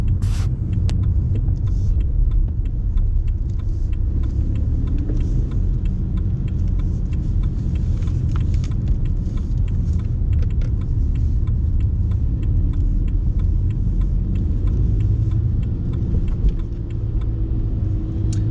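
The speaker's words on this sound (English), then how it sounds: "Clutch is staying down whilst going down through several gears." A car coasts with the clutch held down while the driver shifts down through several gears during a driving test, giving a steady low road rumble and engine hum throughout, with no clear rev changes standing out.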